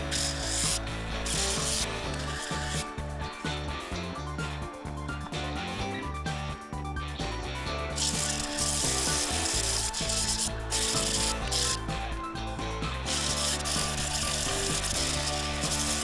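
Steady, continuous abrasive sanding with a whirring, rhythmic rub of a power sander on a redgum and epoxy bowl at 120 grit, running throughout, close and loud.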